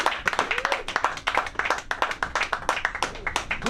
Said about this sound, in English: Clap for Sam.